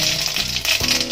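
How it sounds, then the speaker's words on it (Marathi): Mustard seeds and cumin sizzle and crackle in hot oil, a steady close frying hiss with tiny popping ticks throughout, loud and continuous with no talk. "आपलं तेल तापलंय, मोहरी घालूया, जिरं"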